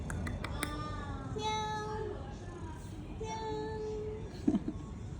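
A cat in Siena, Tuscany, meows a few times in drawn-out, wavering cries, close by, over a low background rumble, with a sharp scratchy noise near the end.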